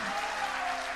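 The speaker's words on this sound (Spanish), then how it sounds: "Un aplauso enorme." Brief burst of audience applause at a political gathering, steady dense clapping from a crowd indoors, heard alone for about a second without talk.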